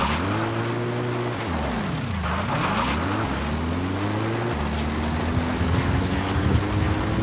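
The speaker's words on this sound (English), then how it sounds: "Support helicopter Roger. requested." A support helicopter arriving in Metal Gear Solid V: The Phantom Pain, its rotor and engine a loud, steady throb that dips and sweeps in pitch as it approaches, then holds a sustained drone.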